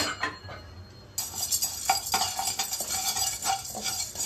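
Urad dal and chana dal are dry-fried without oil in a pan, a utensil scraping and clinking against the metal in a loose, repeated stirring rhythm, close and clear with no speech.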